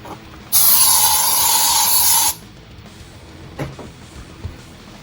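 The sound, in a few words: aerosol spray being sprayed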